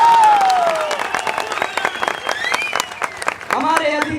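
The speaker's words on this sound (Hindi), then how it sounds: "तालियां बजा दो।" A crowd bursts into applause, dense clapping mixed with cheers and a few whistles, continuing steadily throughout.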